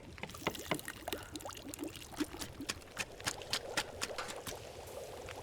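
Water cooks over a fire in the survival game The Long Dark: a run of quick bubbling pops and splashy trickling sounds, fairly close and steady, with no voices.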